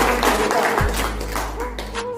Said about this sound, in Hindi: एक बार जोड़ा ताली होना चाहिए